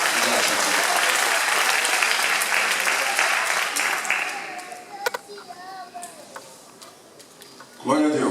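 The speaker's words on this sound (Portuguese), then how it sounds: "Você pode aplaudir o Senhor, nosso Deus?" A church congregation applauds, a dense round of clapping that stays strong for about four seconds, then thins out and fades, leaving a few scattered claps before a brief louder sound at the end.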